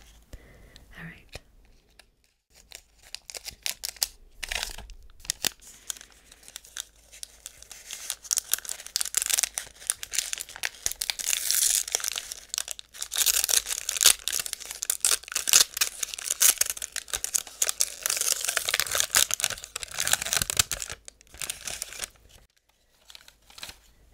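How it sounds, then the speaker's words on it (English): Crinkly plastic wrapping of Magic the Gathering Lost Caverns of Ixalan booster packs is torn and crumpled up close, a long stretch of loud, dense rustling and ripping with quiet soft-spoken voice at moments. "I don't care for those packages. They just are so loud."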